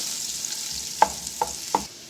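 Vegetables sauté in a hot pan for chicken and vegetable macaroni, a steady close sizzle broken by three sharp spoon-scraping knocks toward the end.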